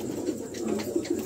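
A pair of American Argent Modena pigeons coo close by in a soft, repeating low rhythm of several throaty pulses, with faint background noise and no talking.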